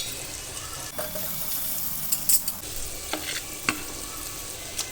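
Garlic, ginger and green chillies frying in a pan, a steady close sizzle with occasional scraping stirs and clinks, no talking.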